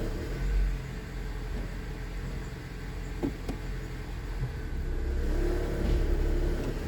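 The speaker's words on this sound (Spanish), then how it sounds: "Tenemos que dejar calentar el motor mientras dejamos que fluya todo el aceite nuevo" A Honda HR-V engine idles and warms up after a CVT transmission oil change, a steady low rumble close by that swells slightly toward the end, with no one talking.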